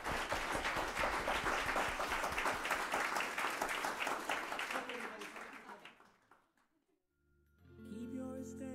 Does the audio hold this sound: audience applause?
yes